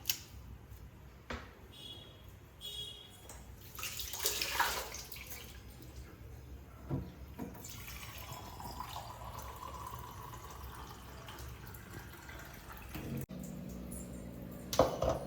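A little water is poured over fresh coriander and other ingredients in a grinder jar for buttermilk sambar, a quiet trickling and dripping with a few light clinks in a home kitchen.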